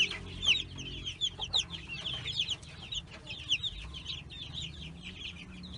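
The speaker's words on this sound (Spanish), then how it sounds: "Estas son la gallina ponedora." Six backyard laying hens cluck and chatter close by in a continuous, irregular stream of short calls and squawks, with small chick-like peeps overhead and no talk.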